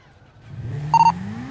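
A car engine in a video game rises steadily in pitch as it revs up, with a short bright electronic beep partway through, moderately close with no talk.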